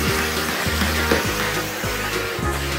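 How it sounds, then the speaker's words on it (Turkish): A Bosch vacuum cleaner running indoors, a loud steady motor roar with a pulsing hum that wavers in a regular cycle, close and alone. "Süpürgeyi mi çekiyorsun?"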